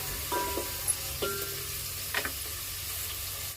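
Onion frying in a pan for an Agri-style mutton dish: a steady, fairly quiet sizzle with a few brief clinks or stirs scattered through it.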